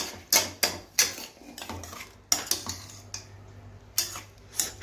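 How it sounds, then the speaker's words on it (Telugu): A spoon clinks repeatedly against a pot while red tomatoes are stirred into white onions for tomato biryani, sharp metallic taps in an uneven rhythm over a faint low hum, close and clear. "తెల్ల ఉల్లిపాయల్లో ఎర్ర టమోటాలు వేసి ఇలా బాగా కలిపి"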